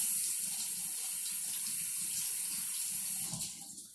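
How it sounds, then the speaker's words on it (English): Tap water runs steadily into a sink as grape tomatoes are rinsed beneath it, a close, even splashing stream that thins out in the final moment. "Give it a nice rinse here."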